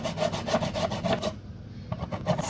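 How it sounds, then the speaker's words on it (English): An ingredient for a homemade natural remedy is grated in quick, rhythmic rasping strokes, close up and moderately loud. There is a brief pause before the scraping resumes. "You need to keep grating it depending on the quantity you got."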